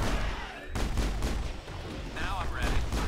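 Video game gunfire in Mass Effect crackles in sharp repeated bursts with booming low thumps, moderately loud, alongside a faint swept electronic tone.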